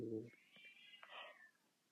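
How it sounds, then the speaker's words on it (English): A cat lets out a drawn-out, rising and falling meow, heard from a short distance after a brief low thump. "That's a loud meowing."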